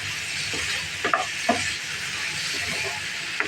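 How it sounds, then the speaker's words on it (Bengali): A chicken pocket snack filled with rice, potato and chopped green beans fries steadily in oil, a continuous close hiss and sizzle with a few small pops and stirring clinks. "এখন এটাকে সুন্দর করে ভেজে নেব"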